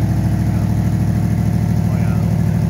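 Small Honda FX50 scooter engine idling close by with a steady, rapid putter, its exhaust still leaking and adding a raspy, uneven edge throughout the short stretch.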